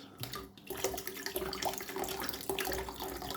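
Tap water runs steadily into a kettle being filled for cooking rice, a continuous close splashing rush with no talk.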